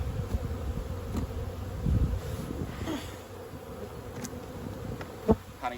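Honeybees buzzing around a hive as a honey super is added in spring, a steady, close insect drone under soft handling knocks and one sharp tap near the end.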